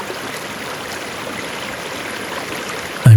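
A river flows in a steady, broadband rush of water recorded close by outdoors, even and continuous, ending with a sudden low thump at the close.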